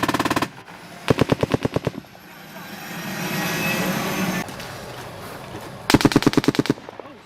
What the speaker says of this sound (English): Somebody shooting that way.